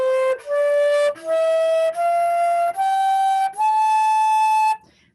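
Eight ascending notes from A up to the A an octave higher, played one after another as separate held tones, each clear and sustained with short gaps between them and no talking.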